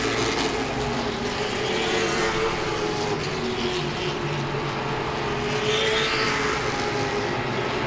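Late model stock cars race at Langley Speedway, their engines roaring steadily as cars pass, with engine pitch rising and falling across the pack, loud and continuous without talk.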